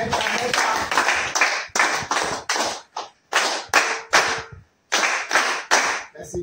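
Attendees at an extraordinary council of ministers meeting clap in loud, rhythmic bursts, with short pauses between groups of strong, close claps.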